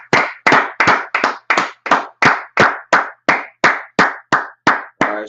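A crowd claps hands in unison at a steady, even beat, about fourteen loud, sharp claps in a row, close and clear with no talking over them.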